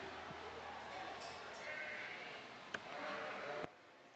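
Yearling ewes bleat in the pens at an open sheep show at the Kentucky State Fair, rising over a steady wash of crowd noise and people talking, with a couple of sharp knocks.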